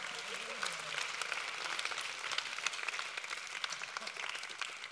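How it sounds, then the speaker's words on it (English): Sustained round of applause from an audience at a talk or panel event, steady dense clapping holding at an even level throughout, fairly distant in a room with no voices over it. "Let's give these four folks a round of applause."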